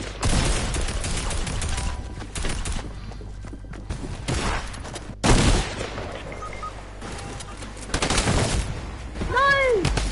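Bursts of shotgun fire in the Fortnite Battle Royale game, loud blasts scattered across the scene amid other game noise, with one especially heavy shot in the middle.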